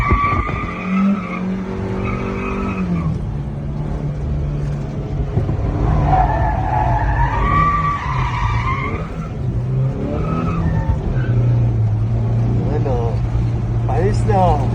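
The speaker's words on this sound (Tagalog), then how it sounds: "Pinapaiyak yung sasakyan eh." A Suzuki Carry truck drifts with loud, sustained tire squeals and skidding under a revving engine, while people talk and shout over it throughout.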